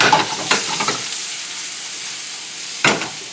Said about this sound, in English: so these onions are going to cook